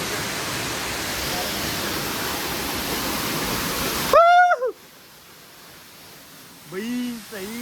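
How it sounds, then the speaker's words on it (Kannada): A waterfall in Wayanad roars with a dense, steady rush of flowing water for about four seconds, then cuts abruptly to near quiet broken by brief voice-like tones. "ನೋಡಿ ನೀರು ಹೆಂಗೆ ಹರಿತಿದೆ"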